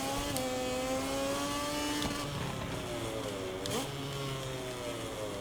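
A KTM motorcycle races round Lusail in the MotoGP 24 video game, its engine whining loudly and steadily with rising and falling pitch through gear changes.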